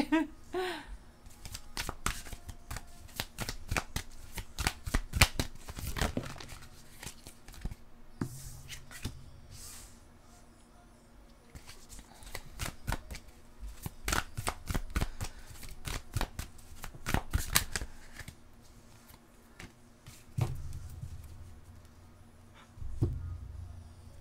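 Tarot cards shuffled and drawn by hand at a reading table, with repeated crisp riffling and flicking bursts and card slaps, close by, interleaved with someone speaking French.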